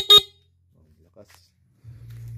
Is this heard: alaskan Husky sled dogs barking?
no